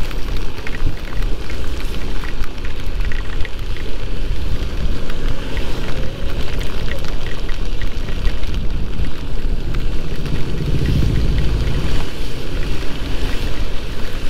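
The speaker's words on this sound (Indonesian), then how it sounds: "Oh, hujannya gede nih." Heavy rain pouring during a ride on a Polytron Fox electric motorbike, a dense, steady roar of rainfall and road spray mixed with wind noise, continuous and loud with no talk.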